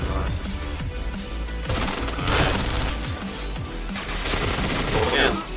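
Rapid gunfire in the first-person shooter Point Blank, with bursts of automatic shots and repeated sharp cracks overlapping in a loud, continuous fusillade.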